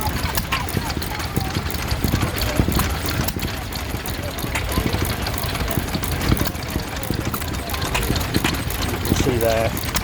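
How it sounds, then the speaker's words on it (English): A 1924 Ruston Hornsby 4 hp British stationary engine runs with a steady, rapid, rhythmic chuffing beat among the background bustle of an outdoor steam rally, with people talking nearby. "4 horsepower, circa 1924. Ruston Hornsby, a very high quality British engine."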